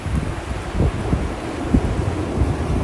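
Steady low rumbling wind buffets the microphone during a blizzard in eastern Nebraska, with heavier gusts swelling now and then; no voices.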